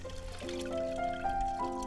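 Water pours and gurgles steadily out of a bucket of soaked barley for homebrewed beer, with rising resonant tones as it drains, close by.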